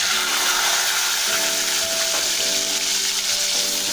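Ground onion paste sizzling steadily in a hot pan while being sautéed for a paneer gravy, a constant loud hiss with faint stirring underneath.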